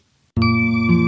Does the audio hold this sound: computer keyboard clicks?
no